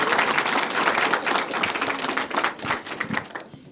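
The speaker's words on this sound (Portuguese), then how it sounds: "Vamos aplaudir, pode aplaudir." Audience applause at a televised spiritist debate in a studio, a dense steady wash of clapping from many hands that thins slightly toward the end and cuts off abruptly.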